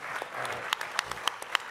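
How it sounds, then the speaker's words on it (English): Audience at a tech talk on driverless cars breaks into brief applause, scattered claps heard faintly and a little distant for under two seconds. "That's worth a hand clap."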